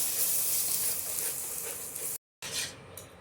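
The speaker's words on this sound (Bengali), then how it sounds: "এবারে পরপর আমরা হলুদ গুঁড়ো দিয়ে দিচ্ছি, দিয়ে দিলাম, দিয়ে কিছুক্ষণ কষতে থাকবো" Turmeric-laced masala sautéing in a pan for a niramish alur dom: a steady, dense sizzle and scraping rasp, loud and close, broken by a brief cut of silence before resuming.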